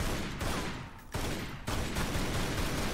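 Gunfire from the video game Tomb Raider Anniversary crackles in dense bursts, loud and close, with brief gaps between rapid volleys and no talk over it.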